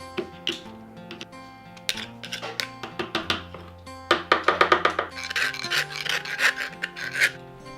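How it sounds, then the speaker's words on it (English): A round file rasps back and forth over the freshly cut metal edge of a DIY clamp light part, quick rhythmic scraping strokes in close bursts, some brisk and clustered, with faint ringing clinks and no talking. "a round file of some sort, and just clean it all up"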